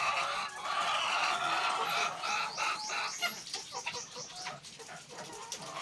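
Layer hens crowded five to a cage cluck and squawk in a dense, close chorus of overlapping calls, loud at first and then breaking into sharper individual clucks.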